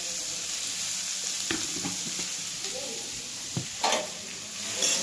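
Cabbage frying in a pan gives a steady, moderate sizzle with occasional scraping stirs and clinks, no talking.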